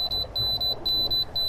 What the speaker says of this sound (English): Ah, there goes the alarm again.